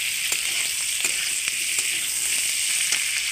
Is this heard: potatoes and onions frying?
yes